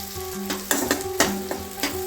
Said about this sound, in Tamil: ஆனியன் நல்லா ஃப்ரை ஆகட்டும், கோல்டன் கலர் வர வரையும் வதக்குங்க.